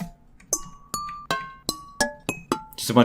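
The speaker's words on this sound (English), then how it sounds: "glass, metallic hits and stuff like that" Homemade tonal sample pack of glass and metallic hits: about eight sharp ringing strikes in a steady sequence, each with a bright pitched decay, played one after another at close range with no talking.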